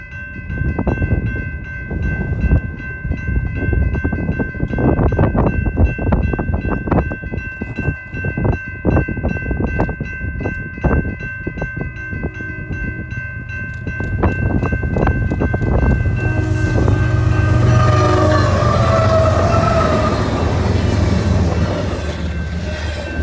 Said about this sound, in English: at Blue Ridge Road we find a high and wide detector as BNSF 4202 moves westbound through it.